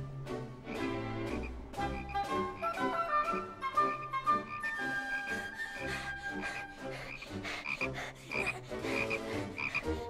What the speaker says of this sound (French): Oh, mais c'est la grenouille de tout à l'heure.